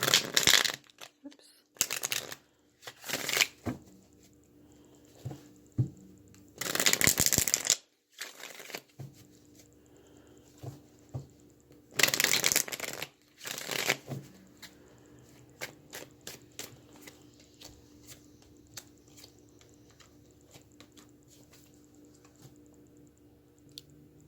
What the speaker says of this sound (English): let me pull these back and reshuffle them into the deck